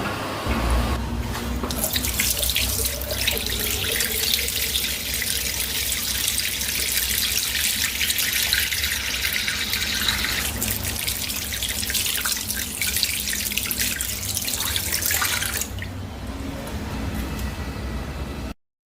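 Tap water runs steadily into a sink while hands are washed for nearly twenty seconds, a continuous close splashing that changes slightly partway through and stops abruptly at the end.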